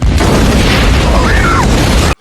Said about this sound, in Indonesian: Dan ya, mobil dinas Chris pun meledak